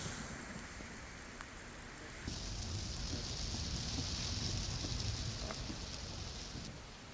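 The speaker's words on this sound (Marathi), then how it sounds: "वादळी वाऱ्यासह मुसळधार पाऊस पडतोय" Heavy rain with gusty wind pours down steadily in Nashik, a dense continuous hiss that swells louder after the first couple of seconds and stays even, with no voices.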